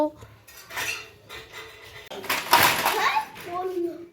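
Rice served onto plates one by one at a home meal, with close metal spoon scrapes and clinks against dishes, pots and plates, irregular bursts of clatter mixed with nearby voices including someone talking.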